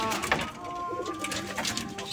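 Pigeons kept in a cage coo softly and repeatedly, with a low murmuring tone close by over faint background noise.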